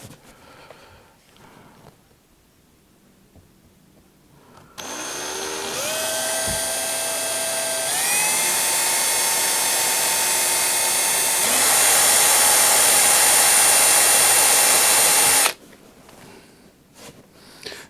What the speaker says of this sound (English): And I'm doing it on wood and drilling in here.